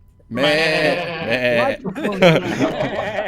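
A loud, wavering bleat like a sheep, most likely a person imitating it, rings out close to the microphone, followed by laughter and chatter.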